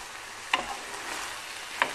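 Oyster mushrooms sautéing with red pepper, thyme, cumin and black pepper in a pan, giving a steady soft sizzle with two brief utensil clinks, close by and with no talking.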